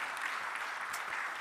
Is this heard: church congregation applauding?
yes